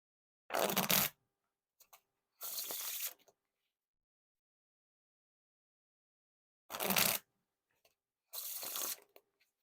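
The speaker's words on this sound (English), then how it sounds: "Now for the riffle shuffle or bridge shuffle." Four quick bursts of Bicycle Frosted playing cards being riffle shuffled, each a crisp fluttering rush lasting under a second, separated by silent pauses.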